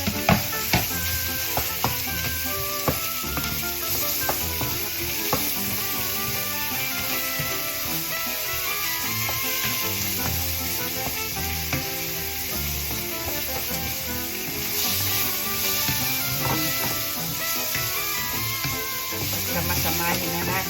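Garlic and onion sizzle in a hot pan for a simple pork, broccoli, carrot and green bean dish, a dense steady hiss with occasional stirring clicks throughout, loud and close.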